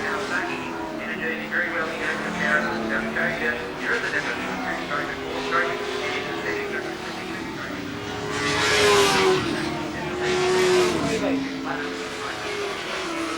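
A Kawasaki GPZ900 motorcycle running in the 1985 Castrol 6 Hour endurance race, its engine a steady mid-distance drone that swells louder around the middle as it passes, with commentary spoken over it.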